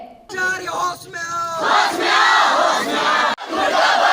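A crowd of students chanting protest slogans against their school administration, loud and sustained, with voices surging together in rhythmic shouts that fill the whole stretch.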